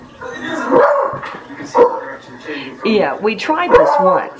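A small dog yelps and screams in shrill, wavering bursts, several times in a row. A person speaks over the noise.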